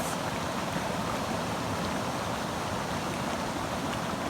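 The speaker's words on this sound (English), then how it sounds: "there's some serious water coming out of here" Heavy water pours out of a river at a portage in the Canadian wilderness, a steady broadband rushing roar that stays even and close throughout with no voices.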